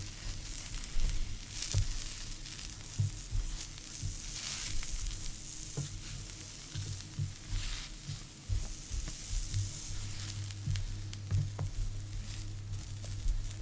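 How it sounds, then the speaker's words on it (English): Eggplant slices fry in clarified butter in a pan, giving a steady close sizzle with soft crackles and occasional light taps as the pieces are turned, quiet and with no talking. "as soon as I place the eggplants in the pan, I'm flipping them immediately so the other side can get some of the oil as well"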